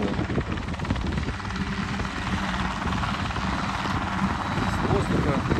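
A CH-7 Kompress light helicopter drones loud and close, its rotor and engine making a continuous, dense, throbbing roar that holds steady throughout.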